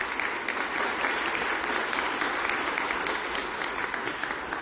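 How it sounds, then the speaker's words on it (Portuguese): A crowd claps steadily through the whole stretch, a dense even wash of applause at the inauguration of new laboratories and the laying of a foundation stone at a federal institute campus in Suzano, with no voices rising above it. "Salva de palmas para ele."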